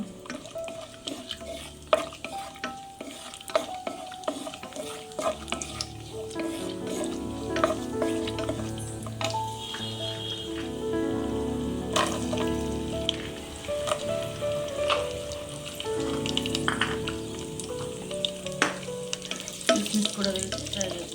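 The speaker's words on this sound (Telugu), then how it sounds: "నెయ్యి వేడెక్కింది. జీడిపప్పు ఫ్రై చేసుకున్నాం." Cashew nuts fry in hot ghee in a pan for carrot halwa, a steady close sizzle with occasional spoon scrapes and stirring clatter, alone without voices.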